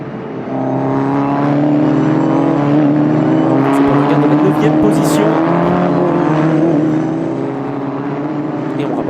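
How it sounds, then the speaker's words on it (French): Race cars at the Magny-Cours circuit during a VdeV Sports endurance race, one overtaking another in traffic, their engines droning loudly and steadily throughout with a nearby pass, under continuous commentary. "Et le dépassement dans le trafic pour la voiture numéro 8 de Frédéric Fauchère."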